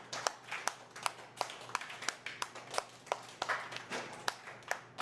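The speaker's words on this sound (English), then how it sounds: "we're still clapping." A group clapping hands in a loose, steady rhythm, sharp claps repeating about every half second, fairly close, with no talking.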